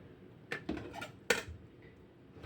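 A knife cuts food during home cooking, a few sharp close clacks and scrapes against a board or dish, spaced irregularly over a quiet background with no speech.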